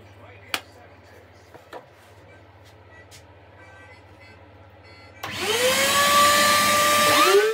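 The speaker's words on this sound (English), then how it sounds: "decided to put a chamfer bit in there instead. So let's give it a run over with that" Quiet handling taps over a low hum, then a router with a chamfer bit starts loudly and cuts the edges of an oak bottle opener in a harsh, sustained whine to the end.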